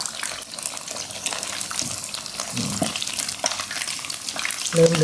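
Thin slices of marinated pork hip deep-frying in oil over medium heat, a steady loud crackling sizzle throughout with occasional stirring clatters and bubbling bursts near the end.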